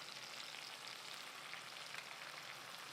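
Peas fry in a pan with onion and spices, making a soft, even sizzle that stays continuous and fairly faint throughout, with no voices.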